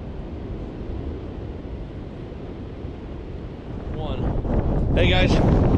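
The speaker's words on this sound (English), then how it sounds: "Wow, the wind's blowing bad." Strong wind buffets the microphone by a fast-moving river during steelhead fishing, a steady broadband roar that swells louder toward the end, with a voice speaking briefly over it.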